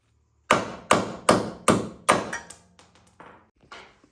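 A hammer strikes wheel studs out of a Mazda Miata hub: five loud, sharp metallic blows at an even pace, followed by several quieter taps and a final knock, heard alone and nearby.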